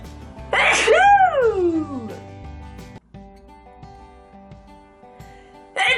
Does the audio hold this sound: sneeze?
yes